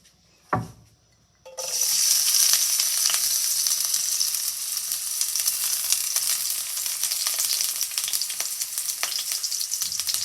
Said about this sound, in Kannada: ಸ್ಮಾಲಾಗಿ ಹೆಚ್ಕೊಂಡಿರೋ ಆನಿಯನ್ಸ್ನ ಹಾಕ್ತಾಯಿದ್ದೀನಿ